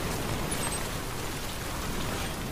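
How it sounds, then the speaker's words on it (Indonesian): Steady rain falls as a dense, even hiss during a storm in the video game Death Stranding, constant and moderately quiet with no voices over it. "Wah, hujan loh."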